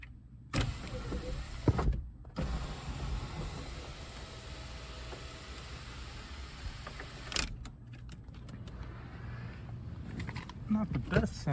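A 2009 Scion tC power window motor whirs steadily for several seconds, a slightly strained, aged mechanical hum with a few clunks at the start and end of travel.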